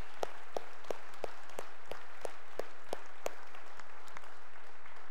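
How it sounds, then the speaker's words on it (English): A church congregation gives a round of applause during a worship service; the clip holds a faint, sparse clapping with regular distinct claps that fade out after about three seconds, leaving quiet room tone. "let's give them one more round of applause"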